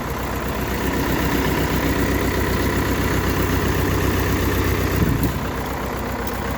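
A small Xingtai tractor engine idles steadily with a low, even chugging that holds for several seconds before changing near the end.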